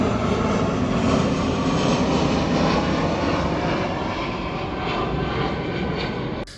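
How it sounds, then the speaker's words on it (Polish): A low-flying airplane passes over a seaside campsite near an airport in Omišal, its engine roar loud and steady throughout with no speech. "niekiedy tutaj przelatują dosyć nisko, co oczywiste jest też głośno, mm, samoloty"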